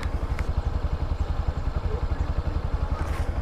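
A Honda ADV150 scooter sits on a muddy trail, its engine idling close by in a steady, rapid chugging pulse. Faint clatter sounds over the engine, and no voices are heard.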